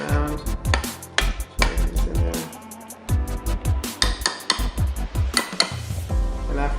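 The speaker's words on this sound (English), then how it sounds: "And you kind of just give it a good mix" Seitan tikka masala being stirred in an Instant Pot, a utensil scraping and clinking against the metal inner pot in repeated close strokes with no talking.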